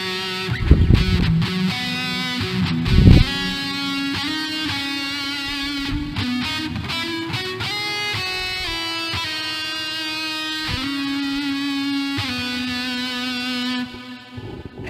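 Distorted electric guitar through a Boss ME-80 multi-effects unit, playing sustained, overdriven chords and notes with a thick, saturated tone, a couple of heavy low hits near the start.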